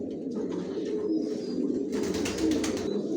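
Racer pigeons of the Johnson line coo in a loft, a steady low murmuring close by, with soft rustling and a brief burst of flutter or shuffling partway through.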